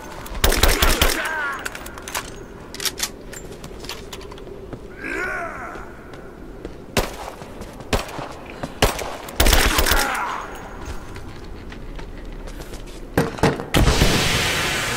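Gunfire rattles through a firefight in the video game Rise of the Tomb Raider, with sharp single shots and short bursts cracking at irregular intervals over a steady background rumble, some blasts loud and close, others more distant.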